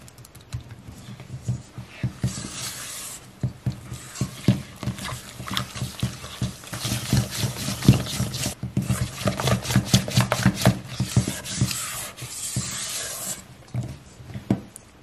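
Wet ingredients with a teaspoon of vanilla extract being mixed in a bowl for chocolate oatmeal bars: steady, rapid scraping and whisking strokes, close and moderately loud, repeating for about fifteen seconds with no talking.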